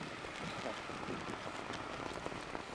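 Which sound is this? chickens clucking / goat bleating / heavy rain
heavy rain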